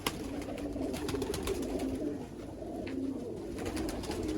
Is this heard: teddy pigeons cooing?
yes